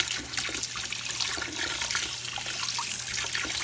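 Tap water runs steadily into a sink while plastic sprues from a Revell 1/48 scale F-4U-4 Corsair model kit are rinsed, a continuous close splashing rush with no talk.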